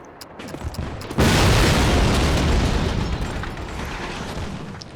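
A plastic explosive charge detonates in the Call of Duty campaign, set in Berlin: one sudden loud boom that opens into a heavy rumble of debris and roar, sustained for several seconds before slowly easing.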